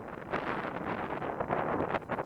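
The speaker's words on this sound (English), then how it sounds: "Man, you can hear that wind though" Gusty wind buffets the microphone during an outdoor amateur tennis match, a fluctuating low rumble and rush that stays fairly close throughout, with no talk.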